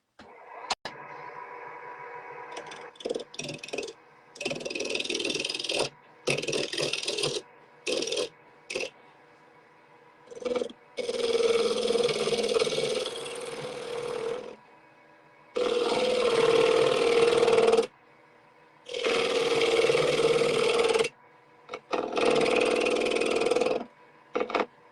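An apple wood bowl turning on a lathe while a bowl gouge cuts it, giving repeated bursts of harsh, rasping, broadband cutting noise a few seconds long. Short quiet gaps separate the bursts, and the steady hum of the lathe runs underneath.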